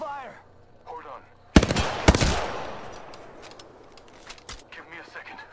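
Rapid automatic gunfire from the battle royale video game Apex Legends erupts in two sharp loud bursts mid-moment with decaying echoes, while a player talks before and after the shots.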